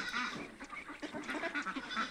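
A large farm flock of ducks, some 2,500 to 3,000 birds, quack and honk in quick, overlapping calls, fairly close, chattering without pause.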